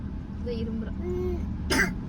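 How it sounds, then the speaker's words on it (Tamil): A single short, harsh cough rises above a quiet background with faint murmuring before it. "இருமல் தான், இந்த இருமல் தான் கொஞ்சம் அதிகமாக இருந்த மாதிரி இருக்குது"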